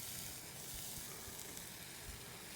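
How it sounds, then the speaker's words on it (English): Bacon frying on a suburban griddle, a steady close sizzle with continuous crackling hiss and faint pops, no talk. "You hear that sizzle?"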